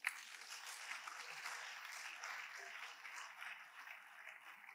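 An audience claps at a political address in Nigeria, a faint, distant patter of applause that starts with a sharp onset and holds steady throughout.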